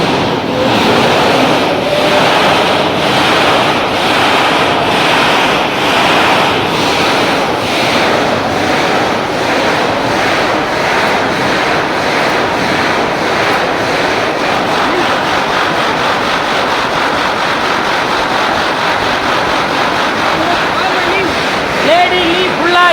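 A 110 HP granite cutting machine runs steadily with coolant flowing over the stone as its head travels forward and back, giving a loud, continuous broadband roar with a rhythmic pulsing throughout.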